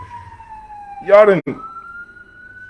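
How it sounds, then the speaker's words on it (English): An emergency vehicle siren wails in the street as a long sweeping tone that drops, then holds steady, while someone talks loudly over it in the middle. "That's a siren."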